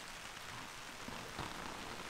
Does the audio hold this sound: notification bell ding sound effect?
no